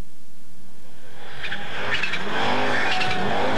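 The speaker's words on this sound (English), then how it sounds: "You can hear the wastegate on the turbo working." Turbocharged rally car on a snowy forest stage in a Maine winter rally, with the turbo wastegate hissing and fluttering in short bursts over a rising, revving engine roar as the car passes close and loud.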